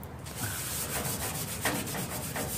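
Brillo pad scrubbing a metal toolbox being cleaned for repainting, a steady close rasping rub with repeated strokes throughout, no talking.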